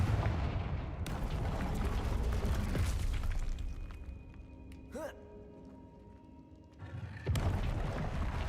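Confringo spell blasts in Hogwarts Legacy: heavy, booming explosive impacts with dense rumbling bursts, a calmer stretch with faint tonal effects, then another loud boom near the end.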